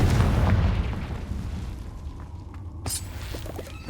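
A Confringo fire spell bursts in Hogwarts Legacy, a loud booming blast at the start that rumbles away, followed by a sharp crack near the end.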